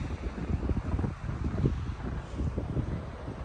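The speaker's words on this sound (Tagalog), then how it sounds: "Medyo malakas yung hangin" Steady, blustery wind at a beach buffeting the microphone, a low continuous rumble with gusty fluctuations throughout and no voices.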